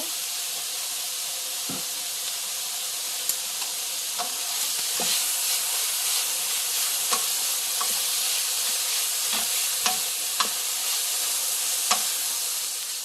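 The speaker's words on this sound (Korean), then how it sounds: "그러면 소고기를 볶을게요. 소고기도 소금과 후추로 밑감을 해줄게요." Beef seasoned with salt and pepper stir-frying in a pan with onions for curry rice, a steady close sizzle with scattered scraping clicks of the spatula, no talk.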